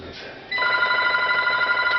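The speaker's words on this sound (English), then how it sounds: "I knew the phone was going to ring when I was trying to do this." An indoor telephone starts ringing partway through, a loud, steady, rapidly trilling bell tone that continues to the end after a moment of quiet room noise.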